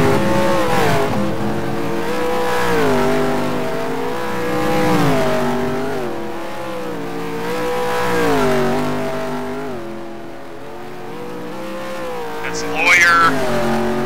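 Race cars roaring through a chicane in a racing series, several engines revving and shifting in rising and falling waves with brief tire squeal, while a commentator talks over the engines.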